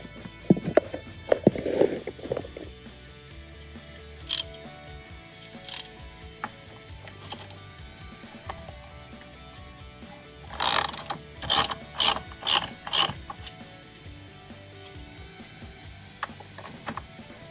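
A ratchet loosens the steering wheel nut on an Audi A4 B7, giving short bursts of sharp, close clicking separated by quiet handling noises, with a quick run of several ratchet strokes near the end.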